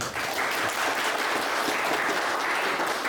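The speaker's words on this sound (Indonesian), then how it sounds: "Oke, tepuk tangan." Sustained, loud applause from an orientation audience, dense clapping filling the whole stretch at an even level.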